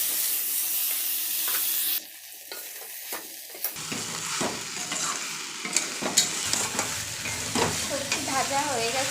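Vegetables sizzle and fry in a hot pan while being stirred, with scraping spatula strokes that grow busier toward the end, close and steady, no talking.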